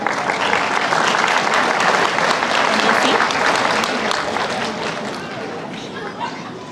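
Graduation ceremony audience gives a sustained round of applause, dense and loud clapping filling the hall, with crowd chatter mixed in and the clapping slowly tapering toward the end.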